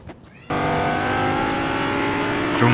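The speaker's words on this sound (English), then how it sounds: "Man, this car is so slow going up a hill." A car in Fortnite drives slowly uphill, its engine holding a steady, loud droning tone after starting abruptly, with a faint higher whine near the end.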